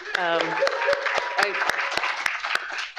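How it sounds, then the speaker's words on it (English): Audience applause after speakers at a talk on art and prisons: steady clapping from a crowd, with a person talking over it throughout. "if we could give Antonio and Risa another round of applause"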